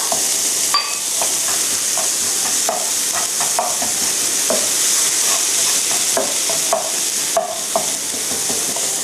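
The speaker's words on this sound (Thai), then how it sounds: "ผัดให้ตัวแกงกะหรี่ละลายนะคะ" Tuna stir-fried with Japanese curry roux in a pan sizzles loudly and steadily, punctuated by frequent spatula scrapes and taps, up close with no talking.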